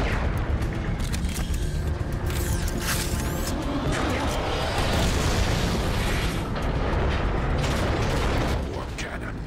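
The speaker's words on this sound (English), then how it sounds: "More cannons. Megatron isn't holding back anything this time. It's targeting the Ark!" Heavy cannon blasts and explosions roar continuously in a Transformers: Fall of Cybertron battle, loud and dense with metallic mechanical clanks and rattles layered throughout.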